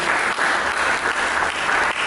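Steady applause from a church congregation, dense and continuous clapping filling the whole stretch at a fairly loud level.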